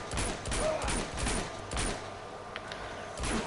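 AK rifle fire crackles in Uncharted 2 in repeated short bursts, fairly quiet and mixed with faint game sounds and a murmur of voices.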